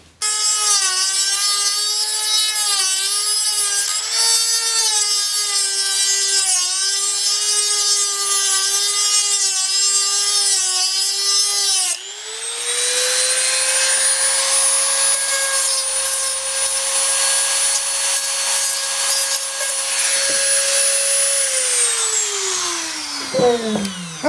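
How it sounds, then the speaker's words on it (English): A Dremel rotary tool cuts off a radio knob shaft, a loud high whine with wavering pitch. It stops and restarts at a steady speed, then winds down at the end. "I'm gonna cut that off using this Dremel tool"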